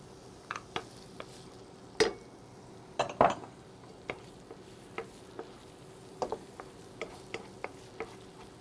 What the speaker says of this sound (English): So we're going to sweat our onions here for a few minutes.